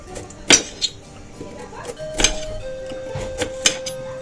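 Knife chopping a carrot on a board in a home kitchen, a few sharp separate clacks at an uneven pace, close and clear, with someone talking quietly between the cuts.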